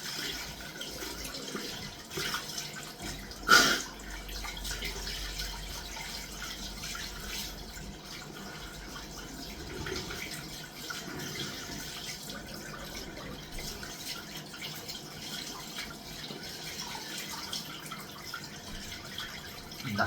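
Cold tap water runs steadily into a sink while someone washes their face, a soft continuous splashing stream with one brief louder splash early on, no talking.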